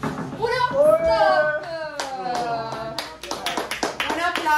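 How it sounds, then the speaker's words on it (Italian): During an outdoor skills battle in the rain, a few people clap in scattered, rhythmic bursts beneath a man's lively, prominent talk, the hand claps sharp and close but partly masked by the voice. "Un applauso a tutti e due, veramente, tanta roba"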